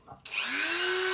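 A power drill with a bit fitted, used on a Flair Fokker D7 model aircraft's engine bay, starts with a click, then spins up into a loud, close whine that rises in pitch and holds steady.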